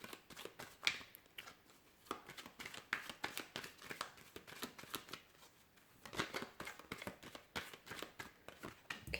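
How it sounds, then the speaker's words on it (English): Tarot cards being shuffled by hand, a steady run of crisp riffling and slapping bursts repeating close up for several seconds with no talking. "let's go ahead and give the cards a shuffle"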